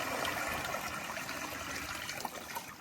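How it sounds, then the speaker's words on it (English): Water pours and splashes out of a LEGO Titanic bow section as it is lifted and drained, a continuous gushing trickle with small spatters, close and fairly loud, no voices. "So we'll take the bow. Get all the water out."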